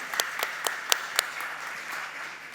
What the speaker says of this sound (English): can we applaud that, please?